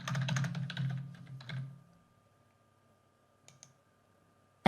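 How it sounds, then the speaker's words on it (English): A computer keyboard clicks in a quick burst of close, crisp keystrokes, then falls silent apart from a couple of soft taps and a sharp click at the end. "I'm going to type in the name"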